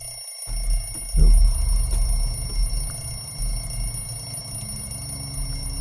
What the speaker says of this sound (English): Turn that bloody alarm off.